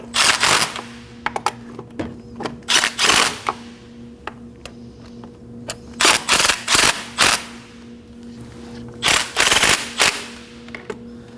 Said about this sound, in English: we're gonna go ahead and bottom out all of the bolts that hold the intake manifold in place